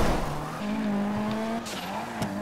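Car engine revving steadily with rising and falling pitch as it drives off-road in GTA V, loud and continuous, with brief scraping bumps near the end.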